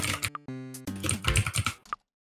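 Rapid clicking of keys on a computer keyboard during a gaming stream, close and fairly loud, coming in quick bursts over a couple of seconds with no talk.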